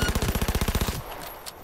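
Rapid automatic gunfire in Cyberpunk 2077, a steady close burst of about fifteen evenly spaced shots lasting around a second, then cutting off into quiet room tone.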